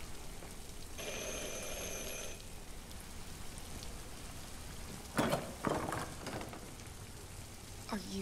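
Doorbell in the video game Detroit: Become Human, a steady electronic chime ringing for about a second and a half over a quiet room-tone ambience, followed later by brief knocks or thuds.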